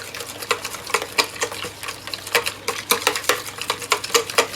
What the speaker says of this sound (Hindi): साथ साथ आपने इसको विस्क यूँ करते रहना है, क्योंकि देखिए दूध गर्म है, अंडे ठंडे हैं